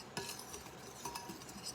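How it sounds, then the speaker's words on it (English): A spoon stirring chocolate cake mix in a baking dish to break up clumps, soft continuous scraping and scratching with light clinks, quiet and close, no talking. "just stir your mix around, get the clumps out of it"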